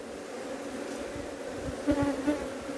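Honey bees buzz steadily at an open hive frame, some carrying pollen on their legs, with a continuous close drone and a couple of louder passes near the end.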